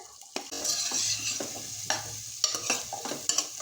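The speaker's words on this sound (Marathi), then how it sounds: "हलकंसं आपण बटरमध्ये परतून घेऊया त्याचबरोबर आपण आता ह्याच्यामध्ये ऍड करूया गाजर" Carrots and onion sauté in butter in a pan, a close crackling sizzle punctuated by quick spatula scrapes and taps as the pieces are stirred.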